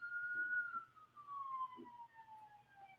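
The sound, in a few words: siren outside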